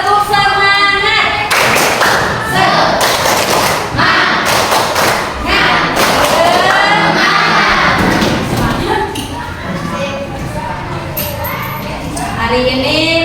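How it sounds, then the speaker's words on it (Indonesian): A primary school class performs a rhythmic spirit clap, children clapping and thumping in sharp unison bursts with shouted voices, loud and close, settling into a softer patter near the end. "Tepuk semangat"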